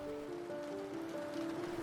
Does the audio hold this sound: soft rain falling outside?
yes